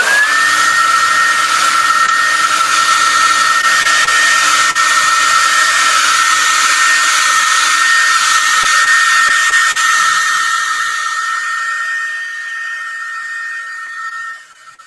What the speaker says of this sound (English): I'm going to hit this with this hair dryer again